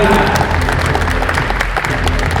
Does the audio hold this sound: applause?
yes